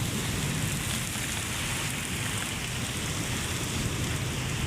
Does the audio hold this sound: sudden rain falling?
yes